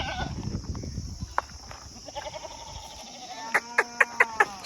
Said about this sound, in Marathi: बघू शकता एकदम मोठ्या राशीच्या पण 1-2 शेळ्या आहेत आपल्याकडे.